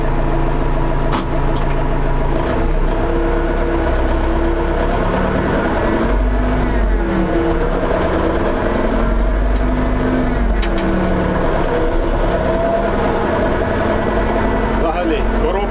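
A loud DTZ 504 tractor engine drones steadily while it drives, its pitch rising and falling as gears change into high range. People talk over the engine noise.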